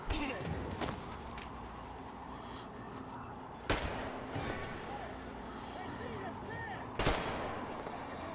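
Gunfire from shooting in the video game Metro Exodus, with three sharp loud shots spaced a few seconds apart over a busy, constant game background, and a voice murmuring now and then.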